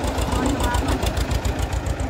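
An Escort 335 tractor pulling a harrow across a hardened farm field runs with a steady, rhythmic low thumping that stays close and loud for the whole stretch.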